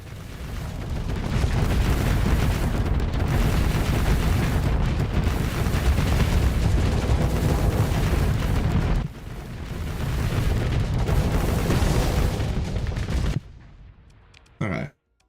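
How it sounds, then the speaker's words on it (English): Dual Hades guns firing automatically in the space combat game Starsector, a dense continuous barrage of booming shots that breaks briefly and resumes, then cuts off near the end. "The dual Hades is automatically firing."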